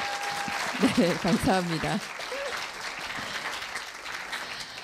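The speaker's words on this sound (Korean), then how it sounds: "멘토 선생님들 큰 박수 보내드립니다" Audience applause for mentor teachers at a middle school speaking festival awards ceremony, a steady wash of clapping that continues beneath a brief spoken thanks and then carries on alone.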